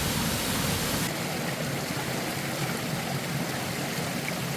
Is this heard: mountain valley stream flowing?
yes